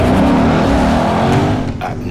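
A Lexus race car roars at full speed on a track at night, with a loud, steady engine drone and road noise throughout, easing slightly near the end.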